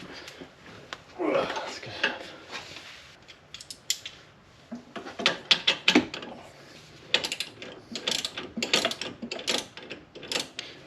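Ratchet with a 17 mm deep socket tightening a coilover bolt on a 2004 Pontiac GTO, heard as bursts of quick metallic clicking with clanks of the tool, close by and alone.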